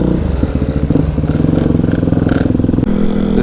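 A 2008 Yamaha WR250R engine cruising in sixth gear at low revs, a loud, steady, close thrumming drone with a slight shift in pitch near the end.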